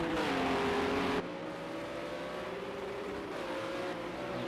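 Cadillac GT3 car's engine in Project CARS at the Le Mans Bugatti Circuit, a loud, close, high-revving buzz held near the rev limiter that drops in pitch at a shift, then climbs steadily again.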